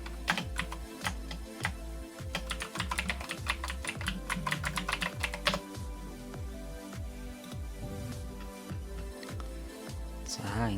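Steady typing on a computer keyboard, a quick patter of soft key clicks that slows after the first few seconds, heard under a constant musical background and a faint voice.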